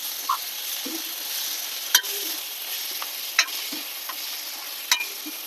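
Green chilli, salt and spice paste frying in a pan, a steady hiss broken by a few sharp clicks of a utensil against the pan and brief soft stirring noises, close and fairly quiet.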